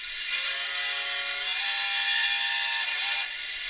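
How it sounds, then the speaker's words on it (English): Model railway sound decoder on a Hornby TT:120 locomotive, producing a sustained hissing steam-like effect with a faint tonal whine over it. The sound lasts a few seconds, is fairly loud and rings out with no talk. "brake squeal, cylinder cock, coal shoveling"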